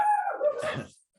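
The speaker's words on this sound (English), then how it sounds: "that's my dog Bacon." A dog gives one short bark or yelp with a sliding, whine-like tone. It is close and fairly loud and is cut off quickly, leaving silence.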